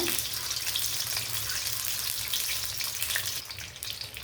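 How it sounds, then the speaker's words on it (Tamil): An egg frying slowly in a pan over low heat, a steady close sizzle with light popping throughout and no talk. "அடுப்பை ஸ்லோவாக வச்சுக்கிட்டு இந்த மாதிரி மெதுவாக பொரிங்க"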